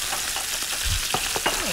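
Meat sears in hot butter with a couple of garlic cloves, a loud steady sizzle with crackling pops and spatters close by in a kitchen.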